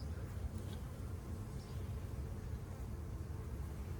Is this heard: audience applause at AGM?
no